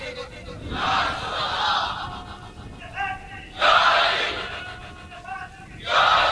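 A crowd at a religious gathering marking Youm al-Badr roars slogans in three loud, full-throated bursts, with a single voice leading the call between each surge.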